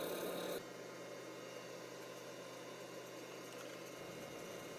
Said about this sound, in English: starting the sanding process here with 80 grit